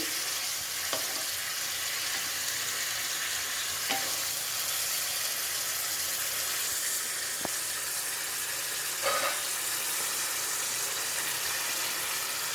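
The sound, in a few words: vegetables sautéing in a pan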